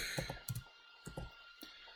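Computer keyboard keys are typed in short clustered bursts of clicks with brief pauses between them, close and quiet, with no speech.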